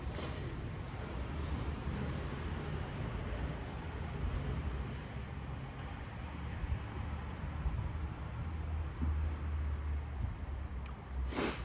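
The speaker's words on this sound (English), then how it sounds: "I think it's a trash truck picking up a trash can." A garbage truck lifting and emptying a trash can out on the street, a faint, distant rumble of engine and clatter under steady outdoor traffic noise.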